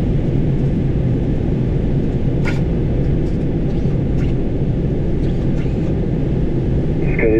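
Airliner engines roaring during a takeoff roll on runway 8 left, a loud, dense, steady low rumble that fills the whole clip, heard close, with faint radio chatter briefly audible beneath.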